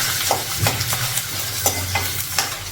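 Close, continuous sizzle of cashews frying in oil with a series of sharp scraping stirs at an irregular rhythm, no voices.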